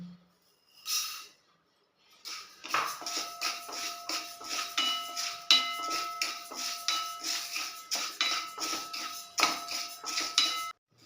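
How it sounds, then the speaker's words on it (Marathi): Coriander seeds dry-roasting in a pan for Udupi-style sambar masala, with a busy, continuous rattle and scrape of seeds being stirred against the metal pan, close and steady, following a brief clink. "आता आपण धणे भाजून घेऊ"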